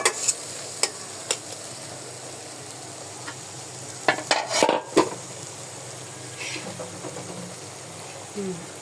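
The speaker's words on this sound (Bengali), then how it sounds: "এই যে চিংড়ি মাছগুলো আমি এখন দিয়ে দিচ্ছি, তেলগুলো দিয়ে দিলাম" Prawns dropped into hot oil in a pan sizzle faintly while a utensil scrapes and clinks against the metal in scattered sharp knocks.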